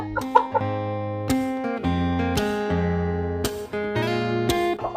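Several chickens, including Bangkok chickens being put into a box, cluck and squawk in repeated bursts, close by, with layered overlapping calls and brief gaps between them.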